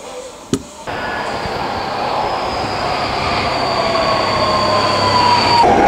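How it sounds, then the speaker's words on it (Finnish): A metro train rolling underground, a loud steady roar of wheels and carriage with a rising whine and faint squeal, preceded by a sharp click as it sets off. "ollaan täällä metrossa"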